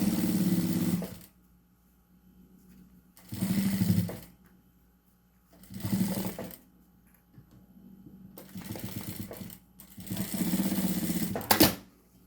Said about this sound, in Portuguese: retrocesso e passo uma costura, ó, até chegar lá do outro lado pra gente dar um acabamento muito bonito pra esse nosso bolso